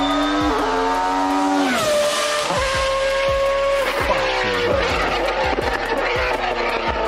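A BMW 1 Series race car fitted with a Judd V8 revs hard and loud, shrieking up through rising harmonics, then dropping and climbing again in several sharp blips close by, with no voices.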